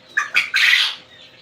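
Baby chicks and quail chirp and squawk in an incubator room, three loud, close, high-pitched calls in quick succession, the last one longer and most intense, then fading.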